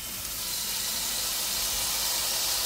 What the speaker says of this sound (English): get the steak started searing. I want you to hear this sear up whenever I put it on here